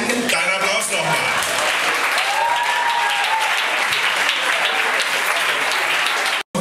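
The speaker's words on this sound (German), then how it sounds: "Deinen Applaus nochmal." Sustained applause from the audience at an acoustic slam poetry and music event, steady and dense for several seconds, then cutting off abruptly at the end.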